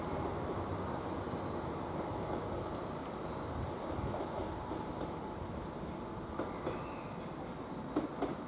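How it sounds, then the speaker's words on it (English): A Greater Anglia passenger train pulls out of March railway station towards Ipswich, a fairly distant low rumble with faint wheel squeals and light clicks as it moves away. "Now we can find this Greater Anglia train now departing towards Ipswich"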